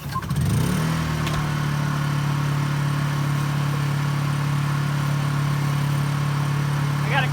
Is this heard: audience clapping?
no